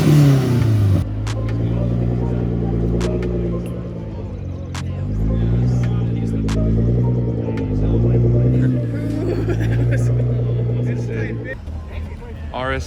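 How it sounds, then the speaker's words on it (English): An Audi RS3 at a car meet pulls away with a deep, droning engine rumble that rises and falls steadily, loud and close. Voices talk over it. "RS3's moving."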